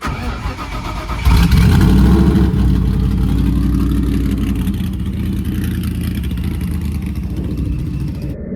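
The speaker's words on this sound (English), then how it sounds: "All right, cold start." A drag race car on a mechanical fuel pump cranks briefly, then fires on a cold start at about a second in and settles into a loud, lumpy, steady idle that rumbles on close by with no talking.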